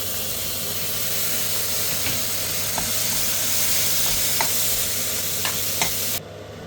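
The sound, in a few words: tomatoes added to frying keema masala, sizzling while stirred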